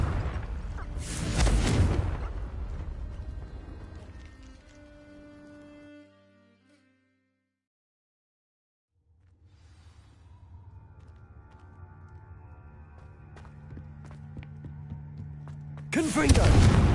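A Confringo blasting spell explodes in Hogwarts Legacy, a sharp, loud burst near the start trailing into ringing, shimmering tones that fade to silence, then a second blast hits at the end.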